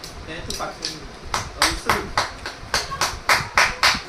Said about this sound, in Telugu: క్లాప్స్ కొట్టురా